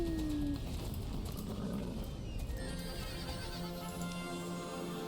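A horse whinnies in the Star Stable Online game, a clear nearby call at the start, over continuous game ambience with hoof clip-clops and background tones.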